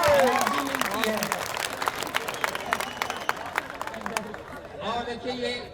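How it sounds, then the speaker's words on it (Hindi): An audience claps at a comic poetry recital in Madhubani, with many hands clattering loosely and unevenly alongside crowd voices and a tonal voice running through the whole stretch. "ताली बजाइए, एनर्जी मिलती है।"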